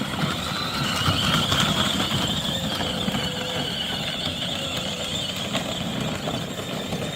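A small ride-on RC car drives over snow, giving a steady, close mechanical whir and grinding rumble with a faint whine above it, continuous for several seconds and without speech.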